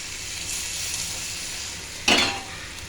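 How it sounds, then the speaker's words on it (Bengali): Water poured into a hot pan of butter chicken masala bursts into a loud, bright sizzle near the end, rising sharply over a steady background frying hiss, with no talking. "দেখুন জলটা দিলাম, দিয়ে না এটাকে ঢাকা দিলাম।"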